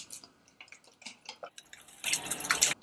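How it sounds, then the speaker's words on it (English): Water wetted onto wool fibres laid over a plastic template for felting: a few soft separate drips, then a denser burst of trickling and splashing toward the end, close and fairly quiet. "wet down fibres with water"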